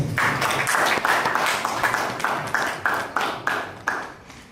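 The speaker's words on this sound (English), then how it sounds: "Let's give them a round of applause" Room applause for volunteers at a train-the-trainer workshop, steady crowd clapping with rhythmic pulses that gradually fade out.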